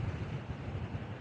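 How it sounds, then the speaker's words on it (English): Strong wind buffets the microphone on a blustery beach walk beside a violent, churning sea, a steady low rumbling roar with gusty swells, no voices. "If the audio quality wasn't enough to convince you of just how windy it is"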